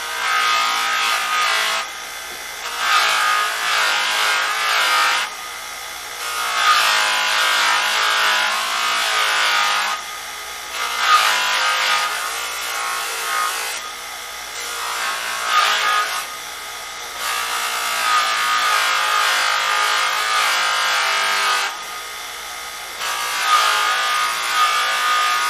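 A brass rifle buttplate pressed against a spinning buffing wheel loaded with brass polishing compound, a loud steady whirring rub that surges and eases in long passes separated by short drops.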